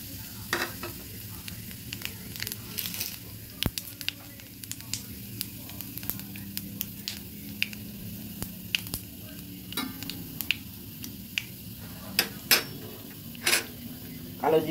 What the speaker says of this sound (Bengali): তেল গরম হয়ে গেছে, দিয়ে দিচ্ছি কালো জিরে।